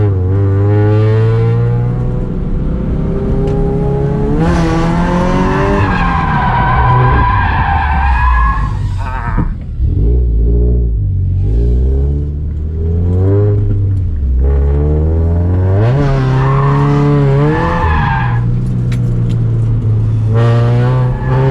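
A Scion FR-S drifts at a drift event, its engine revving hard and falling in long rising and dropping sweeps while the tires skid and squeal almost without pause, loud and close throughout.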